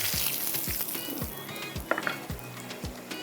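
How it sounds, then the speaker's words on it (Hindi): Keema pieces in a pakora-like coating fry over a strong blue gas flame, a continuous close sizzle with soft repeated low knocks from stirring. "कितनी अच्छी ब्लू फ्लेम है जो फटाफट फ्राई करेंगे यहाँ पर पकोड़े की तरह।"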